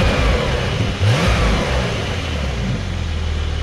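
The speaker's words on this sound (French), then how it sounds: "Donc on va faire échappement en normal." A Porsche 992 Carrera S engine revs with the exhaust in normal mode, a loud continuous engine roar with a quick rise in pitch near the start, then held steady and close.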